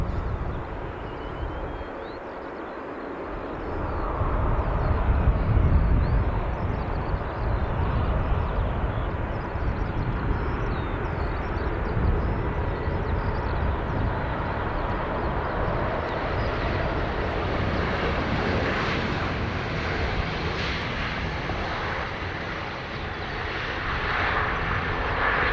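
A CASA C295 twin-turboprop lands at Dublin Airport, its engine roar sustained and fairly loud throughout, swelling slightly at times as it passes at moderate distance.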